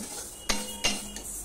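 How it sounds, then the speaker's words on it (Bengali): Fried moong dal stirred with a utensil in a hot wok with the gas turned off, giving two sharp metallic scrapes and clinks about a third of a second apart, followed by a fainter knock, close up over a low background hum. "গ্যাসটা অফ করে দিয়ে আমি সমানে গরম কড়াইতে একটুখানি নেড়ে নেব।"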